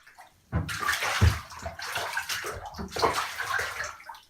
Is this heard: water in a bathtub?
yes